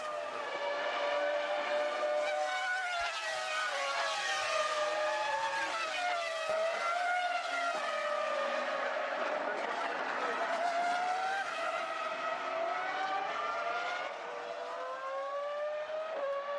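Formula One cars, a Renault and a Ferrari, race at Imola, their high-pitched engines screaming and shifting pitch as they pass close by in a continuous loud wail.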